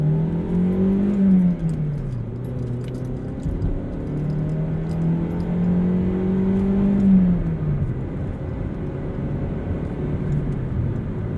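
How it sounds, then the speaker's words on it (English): A 2012 Mazda 3 with a Skyactiv four-cylinder engine revs up and down, a loud, close, continuous drone whose pitch rises and falls in smooth waves, with no talking. "It sounds like a very old school 4-cylinder"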